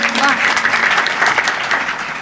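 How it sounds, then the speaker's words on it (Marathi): Audience at a Warkari kirtan clapping in sustained, dense applause, loud and close, with a voice faintly heard over the clapping. "सगळ्या जणांसाठी जोरदार टाळ्या वाजवा एकदा"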